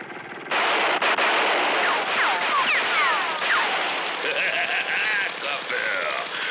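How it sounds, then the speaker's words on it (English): Rapid bursts of cartoon gunfire aimed at car tires rattle loudly over a busy mix of ricochet-like whistles and engine noise, with voices shouting in between. "Very well, I shall riddle your tires with gunshots."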